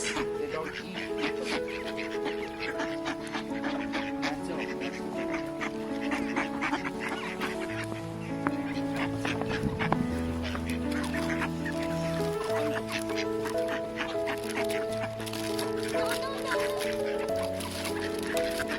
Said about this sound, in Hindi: Shanaya, are you sharing your biscuit with ducks?